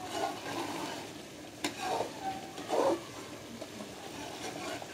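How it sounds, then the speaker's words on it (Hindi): Potato halwa with milk and dry nuts being stirred in a pan: a few soft spoon scrapes and thick, wet stirring sounds over a faint, low background sizzle. "अब इसे हम अच्छे से मिक्स करेंगे।"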